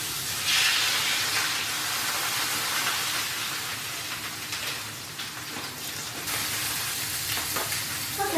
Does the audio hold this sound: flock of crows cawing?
no